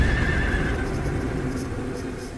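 A horse in Zelda Breath of the Wild gives one loud, close neigh that trails off over a couple of seconds, with no one speaking.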